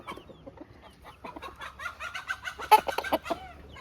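Black chickens and chicks cluck and peep in quick, irregular bursts close by, a busy flock sound with sharper calls rising near the end.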